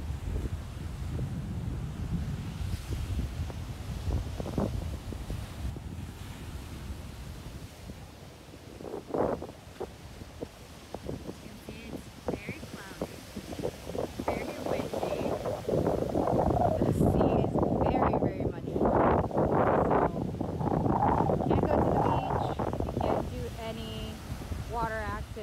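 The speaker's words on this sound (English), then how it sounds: "It's very windy." Strong gusts buffet the microphone in a continuous low roar at a beach in Barbados, with surf in the background and a person talking intermittently under the wind.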